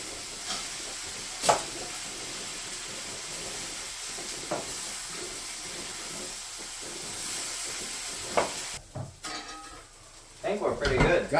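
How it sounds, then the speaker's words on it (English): Scotch broth being stirred in a pot, a steady steamy hiss with a few scraping clinks of the utensil, while people talk nearby and louder kitchen clatter comes in near the end. "why don't you stir this up, Eli?"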